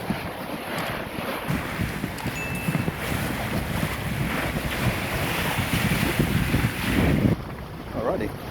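A sailboat moves under sail near the Cumbrae Islands in Scotland, with strong wind buffeting the microphone and water rushing and splashing against the hull continuously.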